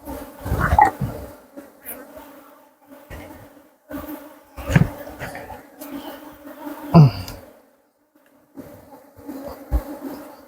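Honey bees at a beekeeping site buzz in intermittent loud bursts as insects fly close past, with quieter hum and pauses between passes.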